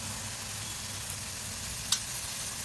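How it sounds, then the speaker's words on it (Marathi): Chopped onion frying in a pan for boiled egg bhurji, giving a steady, even sizzle with one brief scrape of stirring near the end. "कांदा आता चांगला परतून घ्यायचा."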